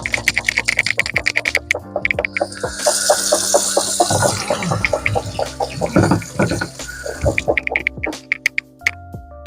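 Water runs from a kitchen tap into an opened chickpea can, a close, splashy trickle with gurgling bursts that swells and then tapers off near the end.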